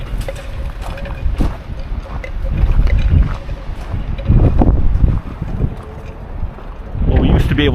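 Strong wind buffeting the microphone at a sandy desert workamping campground, low rumbling gusts swelling and easing throughout, with a few people talking under the roar.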